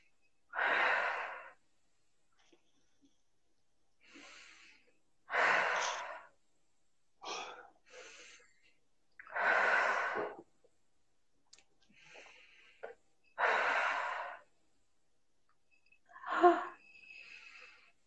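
Deep, heavy breathing while crying: a series of slow, audible breaths and sighing exhales, about eight separated by quiet pauses, close to the microphone, with a few shaky catches between them.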